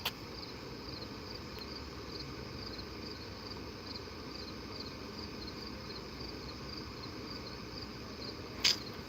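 Crickets chirp in a steady, dense drone through the night air, faint and continuous, with a brief sharp click near the end.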